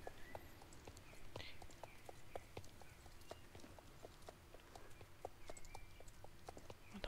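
Rapid, regular clip-clop of video game horse hooves at a steady trot, faint and even, with a light ambient bed and occasional small chirps behind.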